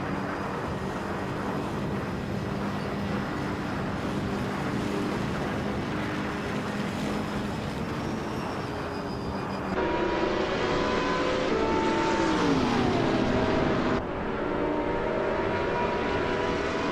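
Race car engines in a racing video game, led by a 2017 Porsche 911 RSR, drone continuously at high revs with gliding pitch shifts, swelling louder partway through and then settling back, with no voices.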